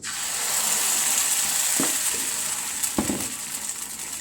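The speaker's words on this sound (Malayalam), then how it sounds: "ഒരു തവി മാവെടുത്ത് ഒഴിച്ചു കൊടുക്കാം." A ladle of appam batter hits an oiled hot pan and sizzles loudly and continuously, with a couple of brief metallic clinks from the pan or utensil partway through.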